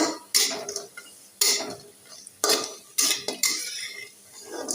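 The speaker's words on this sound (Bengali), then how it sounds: "বড়া করব ডাউলের পাটাই বেটে নিচ্ছি" Soaked lentils being ground on a stone slab for lentil fritters, a series of loud, rhythmic scraping strokes of stone on stone, each a short burst with brief gaps, close by and without speech.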